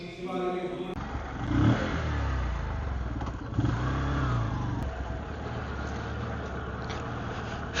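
A motorcycle starts: a short cranking clatter, then the engine catches with a brief rev and settles into a steady close idle, outside a temple in Kilambakkam.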